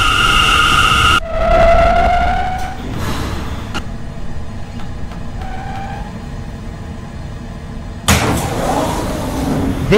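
Subway car doors in a train simulator slide shut with a thud as a door chime fades, followed by a hissing, rumbling interior and another loud burst of door and brake noise near the end.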